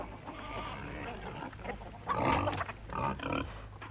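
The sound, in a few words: pigs grunting on a farm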